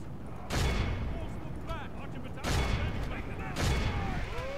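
Troops firing in the Third Age Total War strategy game: three heavy, booming volleys a second or two apart, each with a crackling tail, above a continuous battlefield rumble and whistling projectiles, with someone talking alongside.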